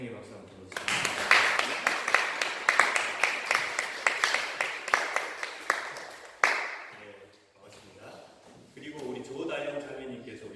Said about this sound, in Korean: 환영의 박수 한번 보내주시겠습니다